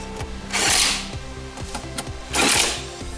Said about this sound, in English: Okay, you can use a ratchet.